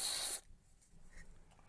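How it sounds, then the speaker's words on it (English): Contact cleaner sprayed from an aerosol can onto the steering wheel contacts of a Mk1 Skoda Fabia, a loud close hiss lasting about a third of a second and then stopping abruptly, followed by quiet. "I'm just going to spray the contacts with contact cleaner"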